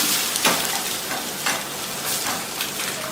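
A double roast omelette sizzles steadily in a pan after being flipped, a loud, close, continuous frying hiss with a few louder crackling swells and no talk.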